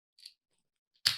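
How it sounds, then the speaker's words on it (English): Scissors snipping a candle wick: a faint short snip, a pause of silence, then a sharper, louder close cut near the end. "Let's just cut that wick."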